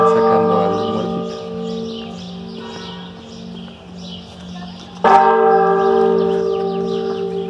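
Large church bells toll slowly nearby for a funeral at the Museo Nacional del Virreinato, Tepotzotlán, their deep ringing tones hanging in the air, with a fresh loud strike about two-thirds through.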